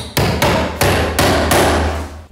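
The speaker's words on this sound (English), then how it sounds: "when I drive it down flush with the wood, I'm 1 inch into the concrete" An express nail hammered through wood into a concrete floor for a stud wall partition: five loud, ringing metallic blows in a steady rhythm, close up with no talk.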